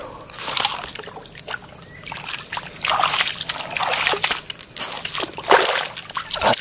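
Dirty feet are washed in swamp water deep in a forest, with continuous close sloshing and splashing in irregular bursts and soft trickles, and no talk.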